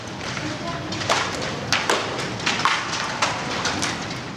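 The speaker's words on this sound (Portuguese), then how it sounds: "Não são fogos de artifício ao fundo. É uma monstruosa tempestade de granizo." Heavy hailstorm pelting surfaces, a dense rattling wash punctuated by sharp irregular thumps and cracks of hailstones striking nearby, sounding almost like distant fireworks.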